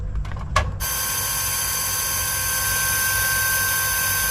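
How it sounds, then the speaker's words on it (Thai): A household water pump clicks a few times, then switches on into a loud, steady hum with a constant mechanical whine that holds evenly to the end. "จากนั้นก็ทำการเปิดปั๊มนะครับ"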